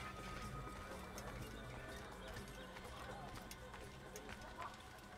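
A horse's hooves clip-clop steadily in an Assassin's Creed game, a faint rhythmic patter under a voice talking in Spanish.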